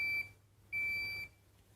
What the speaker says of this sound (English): So it will beep when the first cycle's finished.